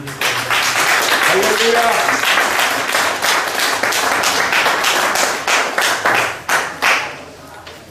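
An audience at a national prayer breakfast claps in welcome, a dense burst of applause that thins into scattered claps and fades out; a voice calls out briefly over it.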